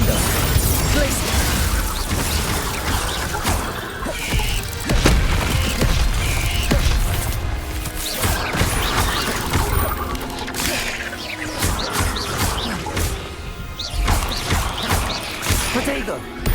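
Spell impacts from Hogwarts Legacy, including Incendio, Expelliarmus and Confringo, land as repeated bursts, crashes and booms in a busy battle, with a voice calling out over them.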